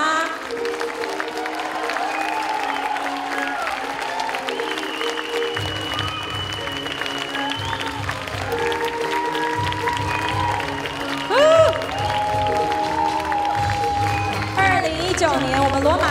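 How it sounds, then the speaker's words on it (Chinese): Applause and cheering from the audience at a closing and handover ceremony, a continuous dense wash of clapping that runs throughout with faint voices mixed in. "我们再一次掌声加欢呼声"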